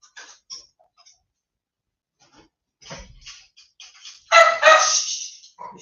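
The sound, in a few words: dogs barking while being fed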